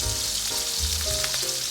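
King oyster mushroom slices pan-fry with paprika in a vegan spinach dish, a steady close sizzle that stays even throughout, with low hum in the background.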